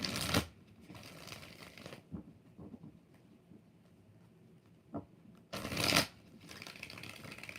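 Tarot cards being shuffled close by in two loud, short riffling bursts, one at the start and one near the end, separated by quieter handling rustles with no talk.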